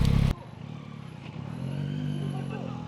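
A loud clunk, then motorcycle engines rumble steadily while boarding a ferry at Bastia, their drone rising slightly in pitch as they carry on.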